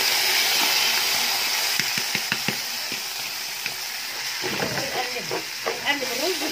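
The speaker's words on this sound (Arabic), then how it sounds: "نقلب الرز بالشعرية. نقلب الرز كده بالشعرية." Rice and golden-fried vermicelli being stirred in a frying pan with tomato sauce for Egyptian koshari, a steady soft sizzle with scraping stirs and a few light clinks, fairly quiet and close.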